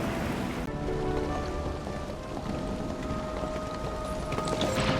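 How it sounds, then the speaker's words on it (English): Heavy rain from the video game Arknights Endfield pours steadily and loudly throughout, a dense continuous hiss of drops on surfaces, with a faint low rumble in the background and no voices. "It's raining harder. I can't hear anything except for the rain."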